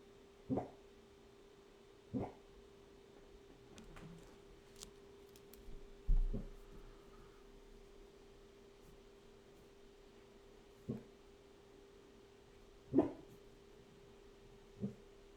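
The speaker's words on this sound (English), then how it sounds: "That's quite enough barking," A dog barks in short, isolated single woofs spaced several seconds apart, faint and somewhat distant in a quiet room.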